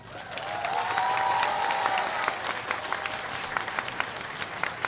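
A crowd claps loudly at a Thai political gathering with party representatives present. The applause swells and holds steadily for several seconds before thinning out into scattered claps.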